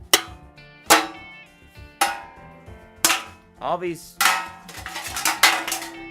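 Two pans struck as experimental percussion, giving sharp metallic clangs in an uneven sequence with ringing tones and a wobbling sustained pitch; a brief voice is heard amid the strikes.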